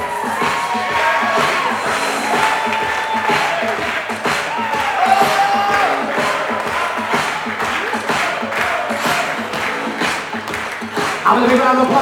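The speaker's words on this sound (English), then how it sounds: "A big round of applause for our bridesmaid, Abby Mayette, escorted by our groomsman," Crowd applause and cheering for a bridesmaid at a wedding reception fill the room, with steady clapping and scattered whoops throughout, loud and close.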